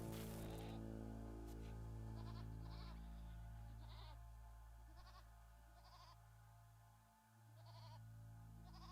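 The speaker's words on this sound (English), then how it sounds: "We can eat our goats." Goats bleat repeatedly in a RimWorld colony game, short wavering calls popping up every second or so over a steady, droning game soundtrack.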